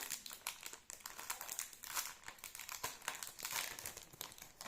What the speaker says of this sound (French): ça va me faire déchirer l'étiquette